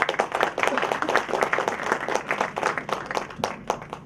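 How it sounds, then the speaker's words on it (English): An audience at a youth conclave session in Bhubaneswar applauds, dense steady clapping from many hands that fills the room, loud and continuous, then thins slightly at the end. "Mr. Malay Mishra, round of applause, please"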